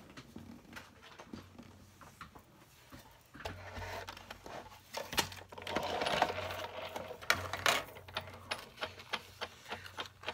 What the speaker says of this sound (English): we're going to pull up the Big Shot, and we're going to go ahead and get started with the Big Shot, doing some die cutting